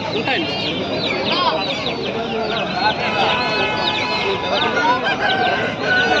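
Salem-breed hens and roosters for sale at a Sunday market in Pileru, clucking and crowing densely and continuously at close range, with vendors and buyers talking over the flock.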